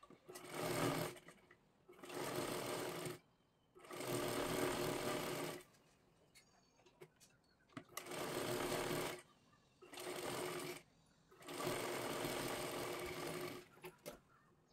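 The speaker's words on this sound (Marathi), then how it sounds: "एकदम कडेकडेला आपल्याला शिलाई मारून घ्यायची आहे" A sewing machine stitches a blouse sleeve in several bursts of steady whirring, each a second or two long, separated by short pauses, close and clear with no talk.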